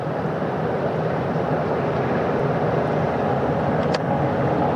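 A helicopter approaches a ship's flight deck on the Pacific Ocean at sunset, heard as a steady, loud, broadband rotor and engine roar that stays constant throughout with no speech.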